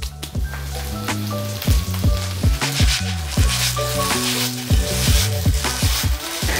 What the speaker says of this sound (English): you just fry it with corn flour and then set it aside